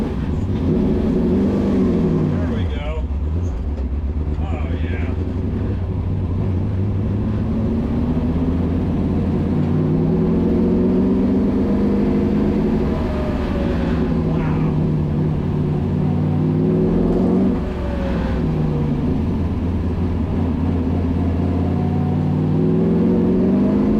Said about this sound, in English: First drive in my Shelby race car.